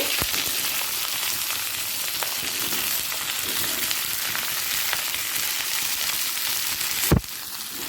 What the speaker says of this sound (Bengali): প্রথমে কপিটাকে ভেজে নেব